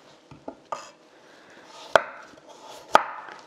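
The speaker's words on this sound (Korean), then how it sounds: "당근을 썰어 보겠습니다." A knife chops carrots on a cutting board, two light taps followed by two sharp, loud strikes about a second apart, close up, with a quiet background and no talk.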